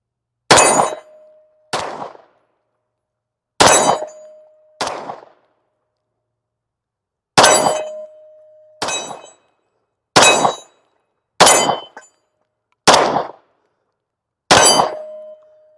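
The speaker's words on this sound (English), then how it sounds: "Let's get a few more shots in." Gunshots ring steel targets during range testing of an Osight SE sight: about nine sharp cracks at irregular intervals, each followed by a bright metallic clang with a sustained ring that decays, alone with no talk.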